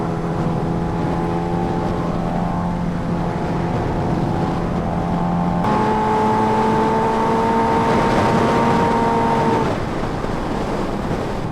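A Kawasaki Ninja H2R motorcycle drones steadily while being ridden, a loud sustained engine tone that shifts pitch partway through and then holds before easing, under heavy wind rush and with no talking.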